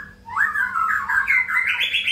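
A long-tailed white-rumped shama (murai batu), a tame bird in open-air sunning, gives a continuous run of bright, rising whistled and chirping calls, close and clear with no talk.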